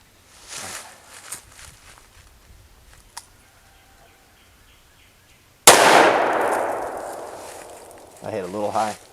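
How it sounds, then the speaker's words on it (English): A .357 revolver shot strikes an M88 steel PASGT-style ballistic helmet, one sharp loud crack with a ringing decay, preceded by quiet outdoor rustling and a faint clank, with a brief tail of noise at the end. "We're going to shoot it with the 357."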